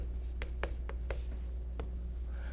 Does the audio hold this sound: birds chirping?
no